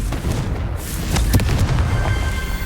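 Confringo blasting spell going off in Hogwarts Legacy, a muffled booming blast with a crackling rumble that carries through the clip, loud and close.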